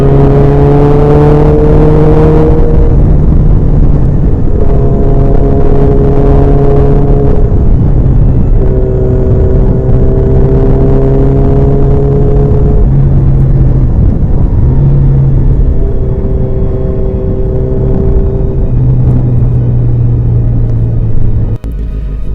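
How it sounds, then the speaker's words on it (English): A Kawasaki Z900RS motorcycle fitted with an aftermarket Akrapovic exhaust and an ECU flash revs repeatedly, loud and close. Its deep rumble rises in several distinct blips and falls back to idle between them, with no talking. "Let's start with the exhaust system that is on this bike now."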